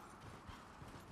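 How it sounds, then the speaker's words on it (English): Horse hooves clip-clop steadily in the video game Elden Ring, a faint, regular patter of low thuds under a dense background wash. "I need to bring my horse back now."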